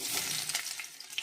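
Chopped garlic sizzles and crackles in hot oil after mustard seeds have popped, for a bilimbi pickle; a short bright hiss with a few stirring scrapes, close by.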